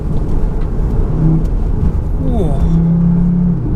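A Cupra Formentor 310 downshifts from fourth to third gear, the engine note rising and sweeping up as the revs climb, loud and close inside the cabin, with a man's exclamation over it.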